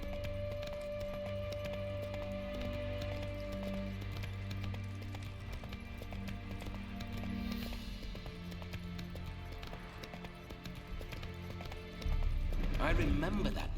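Hoofbeats from a horse in Witcher 3 run in quick succession under a dense, sustained game soundscape, with a louder burst near the end and voices mixed in.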